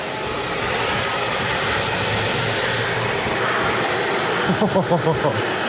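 A 6.5 inch, roughly 300 CFM electric radiator fan on a Mitsubishi Evolution GT-A wagon runs with a steady loud whooshing roar, close up, with a few soft thumps near the end.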